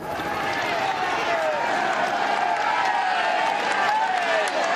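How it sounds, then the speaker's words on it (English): Roadside crowd at a Giro d'Italia cycling stage on the Crosara climb, a dense, continuous wash of cheering and clapping that stays loud and steady from start to finish, with no clear single voices. "Massive crowd on the Crosara as they cheer the local man, Visconti."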